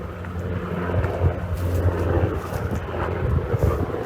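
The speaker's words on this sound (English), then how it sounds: "See, helicopters. They're still scoping this place out." A steady low rotor-like drone of helicopters passing overhead after Hurricane Ian, with wind buffeting the microphone throughout.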